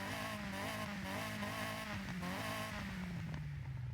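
Stock 2-liter inline-4 engine of a Volkswagen Rallye Golf in Forza Horizon, a steady droning engine note that holds near, then slowly falls in pitch toward the end.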